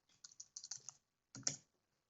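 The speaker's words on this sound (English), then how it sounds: "So just type in recovery services vault." Keys clack on a computer keyboard in a quick burst of close, crisp taps, a short pause, then a final cluster of keystrokes in an otherwise quiet room.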